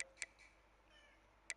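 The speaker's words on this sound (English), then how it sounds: "My cat Carl is meowing." A house cat meowing twice, short faint high cries spaced more than a second apart against a quiet background.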